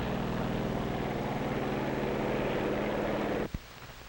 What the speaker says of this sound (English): Also taking off from the carrier are control planes that will guide the radio-controlled drone boats.